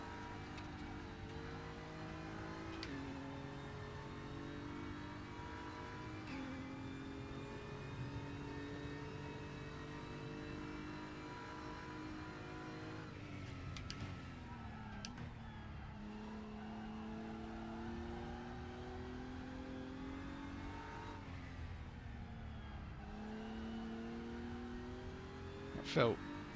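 A DTM race car engine in the sim racing game RaceRoom drones steadily throughout, its pitch rising and dropping through gear changes and corners, sitting quietly under a voice talking over it.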